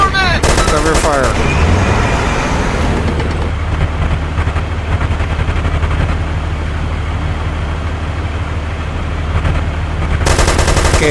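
Gunfire in ARMA 2 during a firefight around an APC: loud, dense automatic fire rattles almost nonstop, with a brief engine-like drone underneath.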